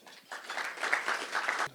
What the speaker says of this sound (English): please salute yourself and the board with a big round of applause